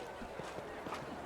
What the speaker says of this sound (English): Horse.